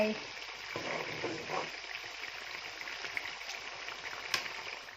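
Shredded pork frying in plenty of hot oil in a home kitchen, a steady close sizzle and bubbling with occasional stirring clatter, someone talking over it.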